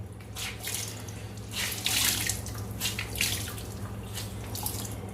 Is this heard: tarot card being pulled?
no